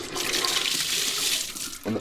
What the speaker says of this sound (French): C'est le robinet quoi.